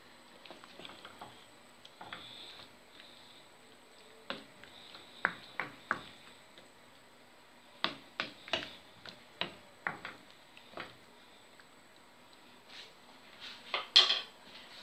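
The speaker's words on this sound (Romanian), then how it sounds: "Amestecăm." A spoon stirring sarmale filling of minced meat and rice with added tomato sauce in a pot, giving sparse, faint clinks and scrapes in irregular bursts with quiet gaps between them.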